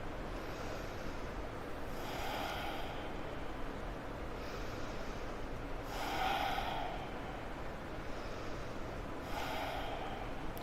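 Slow deep breathing exercise with the tongue resting on the roof of the mouth, three or four long, audible breaths drawn at an even pace, close and soft, with no talking.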